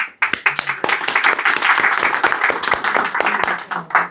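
An audience claps at the opening of a film-directing workshop, a lively burst of hand claps from a modest crowd that builds, holds and then thins into scattered claps near the end.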